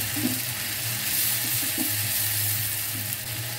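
Grated onion hits hot oil with whole garam masala spices on full flame, giving a steady broad sizzle with a few soft stirring scrapes, close and continuous.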